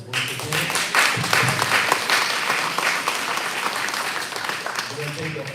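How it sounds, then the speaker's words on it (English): An audience at a small business appreciation day event bursts into sustained applause that swells and then slowly tapers off, with a voice speaking over the clapping. "Now I want to give a little round of applause for this once"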